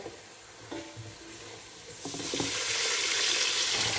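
Onion, cloves and curry leaves drop into hot oil in a pan, a few soft knocks giving way to a loud, steady sizzle that grows and holds.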